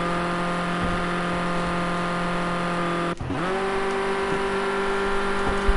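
Ford Escort RS 1600 race car engines in a racing video game at Watkins Glen, a steady loud drone of old, underpowered engines with a brief sharp shift or drop about halfway, then carrying on at an even pitch.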